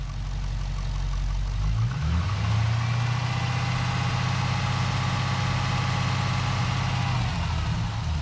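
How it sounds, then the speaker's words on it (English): A Holden VE SS Ute engine with an aftermarket cam idles steadily, then rises into a gentle, slow rev that holds for several seconds before easing back down. "Alright, just going to go for a little mild slow rev."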